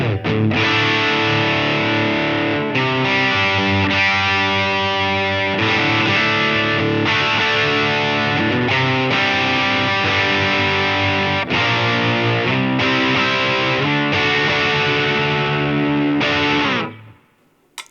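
An electric guitar played through heavy distortion gain rings out in loud, sustained chords and riffs with brief stops between phrases, ending with a sudden cutoff, and no voices over the playing.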